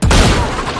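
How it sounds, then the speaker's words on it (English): A gunshot in the Valorant shooter game during a ranked match: one sharp, loud blast at the start, followed by a short rumbling tail. "I headshot him."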